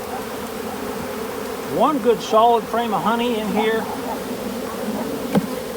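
Honey bees buzzing around an opened hive during an early spring inspection, a steady drone under a voice as a frame is handled and bees are shaken off.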